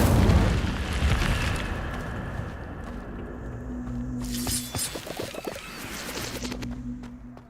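A fire spell bursts in the video game Hogwarts Legacy: a loud booming blast opens, then settles into rumbling crackles with a second cluster of sharp pops midway, with no voices.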